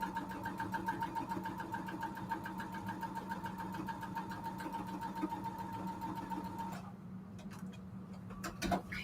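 A sewing machine stitching a seam in white fabric runs at a steady, rapid mechanical hum for about seven seconds, close by, then stops, leaving a few faint handling clicks.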